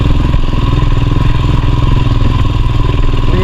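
A motorcycle rides an off-road mountain road in Nepal, its engine a loud, close, continuous throbbing rumble with clattering from the rough track. No one speaks.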